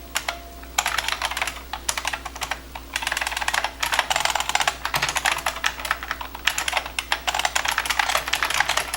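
Rapid, continuous typing on a computer keyboard during a game-coding session, with crisp clacking keystrokes in steady bursts and brief pauses, close and fairly loud with no talking.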